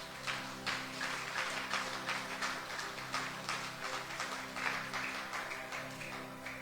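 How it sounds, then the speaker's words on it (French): A church congregation claps together in a steady, regular rhythm, the claps evenly spaced and sustained over several seconds, with a faint hum underneath. "Est-ce qu'on applaudit le Seigneur, bien aimé?"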